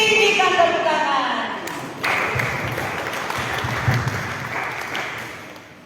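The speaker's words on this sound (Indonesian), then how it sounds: "Tepuk tangan." A church congregation at a Sunday service breaks into applause, a broad rippling clatter of many hands that swells in after a voice and sustains, fairly close and moderately loud.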